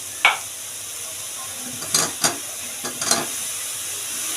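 Cauliflower is stirred into a curry kurma gravy sizzling in a pan, a soft background hiss broken by a few short scraping stirs and spoon knocks, close and moderately loud, with no talking.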